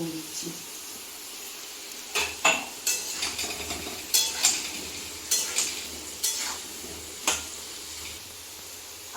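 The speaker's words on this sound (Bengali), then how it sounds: "আলুটা ভাজা মতন হয়ে গেছে" Potatoes fry in oil with turmeric and salt under a soft, low sizzle. A spatula scrapes and clinks against the pan again and again, and these sharp metallic knocks stand out from the background.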